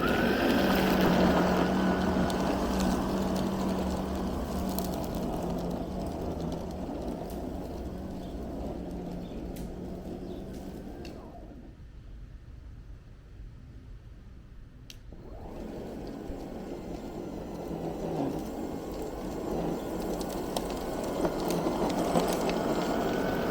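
Ryobi +ONE brushless lawn scarifier dethatcher running on grass, a loud steady whirring and raking drone that drops away briefly in the middle, then resumes at full strength, close and without talk.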